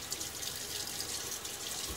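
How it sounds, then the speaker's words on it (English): Water splashing at a bathroom sink during a wet shave with a Gillette Sheraton razor, a steady broadband rush of running and splashing water that continues evenly for the whole two seconds, close by. "I'm going to splash some water on my face"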